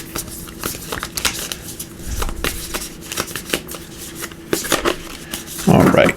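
Tarot cards from the Naked Heart Tarot deck being shuffled by hand, a run of crisp riffling and slapping bursts with a louder flurry near the end, a voice murmuring faintly underneath.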